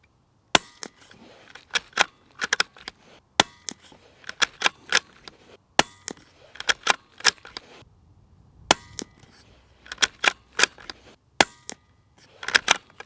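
A Ruger Precision Rimfire rifle fires SK Pistol Match .22 LR rounds, sharp single cracks in small groups with pauses between them, heard from nearby at moderate loudness, with faint bolt clicks and handling noises between shots.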